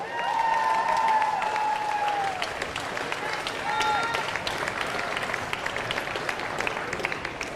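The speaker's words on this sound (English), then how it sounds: "one more round of applause for your Youth A Female Queensland podium" Steady crowd applause with some cheering greets the youth female podium at a state climbing lead competition in Queensland, a dense wash of clapping holding for several seconds, with a whistle-like tone ringing over it early on.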